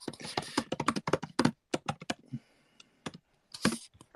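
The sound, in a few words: typing on a computer keyboard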